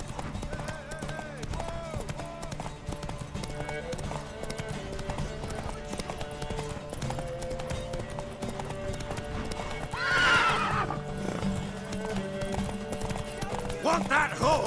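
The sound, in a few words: horse neighing and hooves in video game Witcher 3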